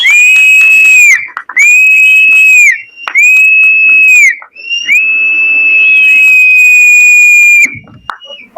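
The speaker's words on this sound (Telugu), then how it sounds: "ఇదే విజిల్ అందరూ అలా వేస్తే ఇంకా చాలా చక్కగా ఉంటుంది" Shrill whistling at a song launch event comes in four long, loud, sustained blasts separated by short gaps, each one piercing and close, with no speech.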